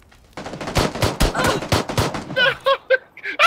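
Rapid gunfire from a PUBG match, a burst of loud repeated shots in quick succession that gives way to sharper, more tonal effects near the end.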